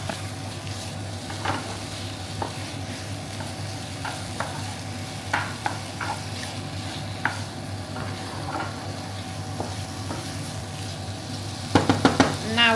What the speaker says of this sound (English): we're going to grab a wooden spoon, give that all a bit of a stir